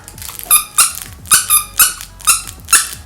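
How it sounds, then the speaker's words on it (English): A squeaky dog chew toy squeaks loudly about six times at a steady rhythm. Each squeak is short, sharp and close. "it definitely has like that squeaky noise inside, which is definitely pretty cool for your dogs"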